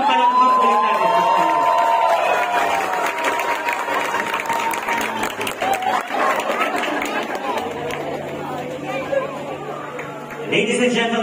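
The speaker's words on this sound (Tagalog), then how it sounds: "And once again, everyone, palakpak ulit natin." Wedding guests applaud, a dense, continuous patter of clapping from a crowd. Chatter and an amplified voice run over it throughout.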